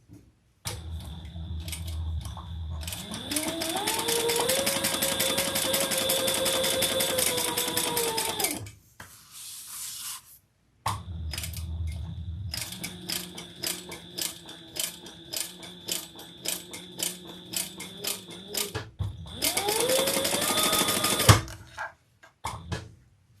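A sewing machine stitches around the outside of a custom-order bag in long bursts of fast, rattling whir that rise in speed, pause briefly, then resume with quick ticking stitches, close and with no speech.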